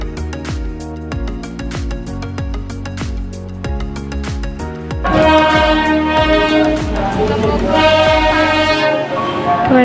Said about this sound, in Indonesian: Keretanya udah datang.